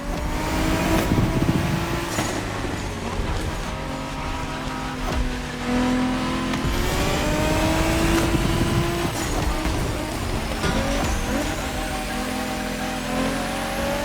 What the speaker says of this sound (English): A pumped-up Toyota Supra A80.